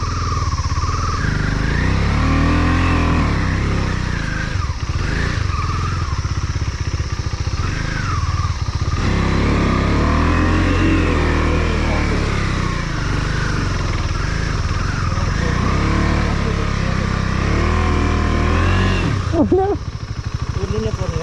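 A Royal Enfield Bullet motorcycle engine roars and revs continuously on an extreme offroad ride toward Bhujung, loud and close, with voices talking over the engine throughout.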